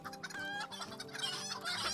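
Three chickens on an escort quest in a video game cluck and squawk in short, bright bursts, close and lively, with no talk.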